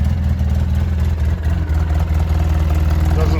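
A 2010 Polaris RZR 800 UTV engine idles steadily right after its spark plugs were replaced, a loud, close, low throbbing rumble with an even pulse throughout and no voices.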